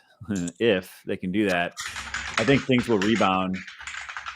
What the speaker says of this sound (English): your keyboard is so fucking loud